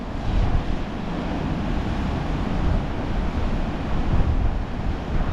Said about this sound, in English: just sit there and chill, watch the waves, sometimes watch the sea foam